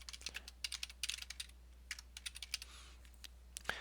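Quick taps on a computer keyboard, close and fairly quiet, come in uneven runs of clicks with brief gaps, alone and without any voice.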